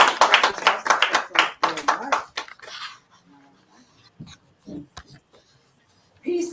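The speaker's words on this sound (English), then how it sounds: "give yourselves a round of applause for showing up" Audience applause at a panel discussion, a burst of close, sharp clapping that quickly fades out, followed by a few scattered claps and quiet room sounds.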